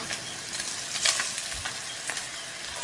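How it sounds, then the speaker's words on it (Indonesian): Pindang tuna, already cooked, sizzles and crackles steadily in hot oil in a wok, a busy, continuous frying hiss with scattered pops and spatters, close and fairly loud, no voices. "Gorengnya ini sebenarnya nggak usah sampai yang kering banget"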